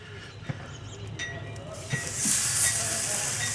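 Steak searing on a hot Char-Griller Akorn kamado grill: a few light clanks, then a loud hiss surges in about halfway through and holds close and steady.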